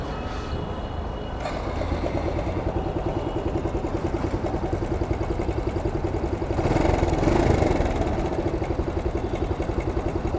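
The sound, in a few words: motorcycle engine idling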